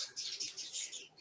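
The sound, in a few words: birds singing outdoors on a terrace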